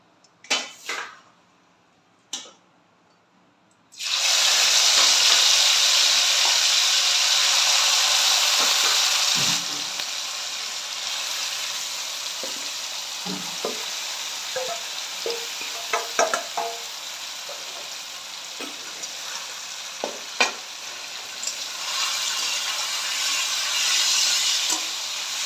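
Small mourala fish hitting hot oil in a pan already tempered with radhuni, giving a sudden loud, steady sizzle after a few soft knocks, then continuing as a dense hiss with occasional stirring clicks and spatters.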